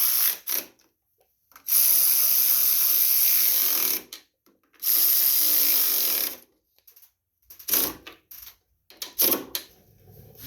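A hand ratchet tightens carburetor bolts on a Champion front-tine garden tiller in bursts of rapid, close clicking, separated by short silent pauses while the tool is repositioned.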